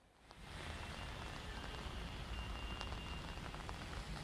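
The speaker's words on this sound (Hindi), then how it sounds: "बारिश जो है वो अभी भी थमने का नाम नहीं ले रही है" Heavy rain pouring steadily over Gurugram streets, a dense, even hiss of drops on surfaces that rises quickly at the start and then holds constant, no voices.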